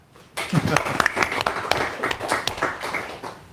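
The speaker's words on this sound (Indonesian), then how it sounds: "Tepuk tangan." An audience at a book launch bursts into applause, a sudden onset of lively, close clapping with distinct sharp claps that gradually thins out, with some voices mixed in.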